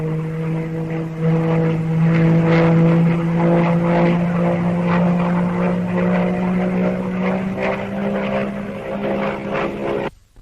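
Hawker Tempest WWII fighter's piston engine drones steadily with a strong low tone and harmonic overtones, rising slightly in pitch, continuous and fairly near for about ten seconds before cutting off.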